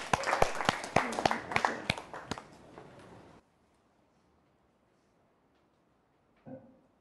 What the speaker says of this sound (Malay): Dipersilakan beri tepukan dekat Syarmani